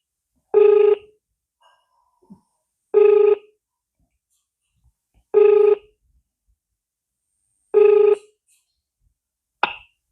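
Ringing tone of an outgoing telephone call: four evenly spaced, identical buzzing pulses about two seconds apart, clear and close with no talk, followed by a short click as the line connects.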